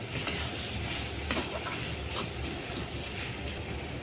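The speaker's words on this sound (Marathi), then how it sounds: "आता छान असं मिक्स करून घेऊयात त्या ग्रेव्हीसोबत" Gravy being stirred and mixed with roasted vegetables in a pan makes a steady sizzling hiss, broken by a couple of sharp utensil clicks, with no talking.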